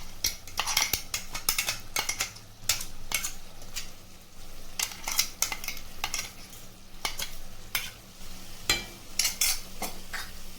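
Coarsely ground masala fries in hot tempering while a spoon stirs it, with a soft steady sizzle under repeated sharp scraping and clinking strokes against the pan, close and without voices.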